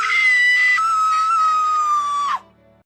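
In a dramatised story, a woman lets out one loud, sustained, high-pitched scream that holds for over two seconds and then cuts off sharply, followed by faint low background sound.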